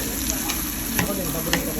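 Fish sizzling in hot oil in a pan, a steady broadband crackle with a few sharper pops and spits, close and alone with no talk over it.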